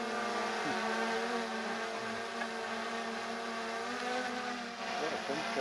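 A DJI Mini 3 drone hovers nearby at sunset with a steady, buzzing whine, its pitch wavering slightly, outdoors on Great Cumbrae in western Scotland.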